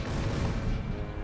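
A laser cannon blasting in a space video game, a short dense rumbling burst of fire, steady and fairly loud with no talking.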